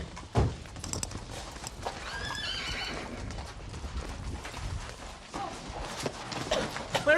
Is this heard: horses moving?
yes